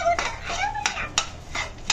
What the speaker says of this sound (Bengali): আজকে বিরিয়ানি ভাত রান্না করতেছি চিকেন দিয়ে সরষের তেল দিয়ে রান্না করতেছি